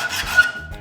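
A short rasping scrape of a file drawn across a metal blade being sharpened, one harsh stroke, close and fairly loud with no voices.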